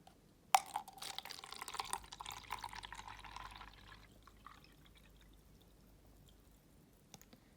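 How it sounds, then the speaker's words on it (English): Water pours into a glass beaker, starting with a bright splash, then a trickling fill that fades into a few faint drips in a quiet room. "I'm now going to pour some water into the beaker"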